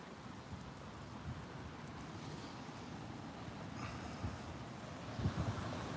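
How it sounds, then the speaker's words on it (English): Heavy rain pours steadily outdoors, a dense low hiss with wind buffeting the microphone and occasional louder splashes toward the end, fairly faint overall. "It is raining heavy, so I guess I better go."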